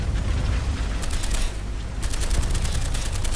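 Gunfire during a War Thunder tank battle, a loud, continuous wash of rattling shots and bursts with no pause across the short stretch.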